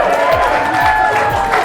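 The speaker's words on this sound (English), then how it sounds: "You guys can cheer for Crypt King." A Comic-Con panel audience for Skylanders cheers and claps steadily, a dense continuous crowd roar with applause filling the room close and loud.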